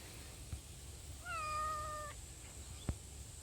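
A single cat meows once, a drawn-out, fairly quiet mew against outdoor background hiss in the bush, with a faint thump just afterward.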